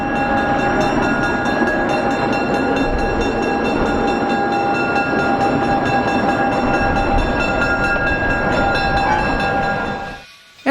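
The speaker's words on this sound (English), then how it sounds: "As the 1649 goes about its switching work, number 401 passes through the yard." Diesel switcher locomotives work a rail yard with a steady, loud engine rumble and droning tones while a train passes through. The sound runs continuously and ends abruptly.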